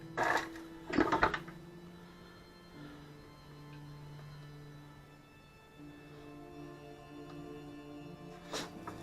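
A stand mixer kneads dough with a dough hook, a steady low motor hum with a few clattering knocks near the start and end, moderately close and fairly quiet.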